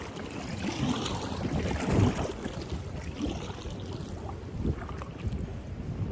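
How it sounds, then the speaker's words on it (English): Strong gusty wind buffets and rumbles across the microphone outdoors by a creek, with a few louder gusts and faint water sounds. "But it is really windy out here, like I've been saying."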